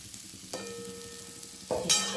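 Sliced okra (bhindi) frying in a little oil in a pan, a soft steady sizzle with a louder hiss and stirring near the end.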